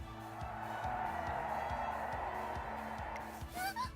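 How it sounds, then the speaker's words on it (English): A race course crowd in Umamusume: Pretty Derby cheers as a muffled, sustained roar heard from indoors, fairly faint, with a steady rhythmic thumping underneath and a brief voice near the end. "the crowd cheers are so loud that we can hear them from in here"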